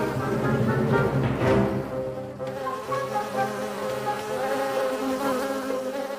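A swarm of cartoon bees buzzes loudly and continuously as they fly together toward the hive, several droning tones overlapping close by.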